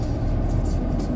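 Off-road vehicle driving on a demo course at the IAA 2011 motor show, a loud continuous low engine rumble close by with no clear breaks.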